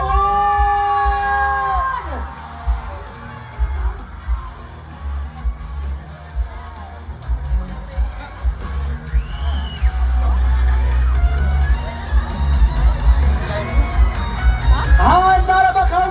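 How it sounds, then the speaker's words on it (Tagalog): A large concert crowd at the Gawagawayan show cheers, whoops and yells in repeated loud bursts, while an emcee's amplified voice rises over the noise at the start and end. "Marinig po ng inyong malakas na sigawan!"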